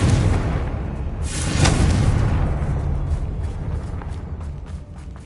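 A Confringo blasting spell bursts in Hogwarts Legacy, a sharp, loud explosion about a second in, followed by a rumbling tail and scattered crackles that slowly fade.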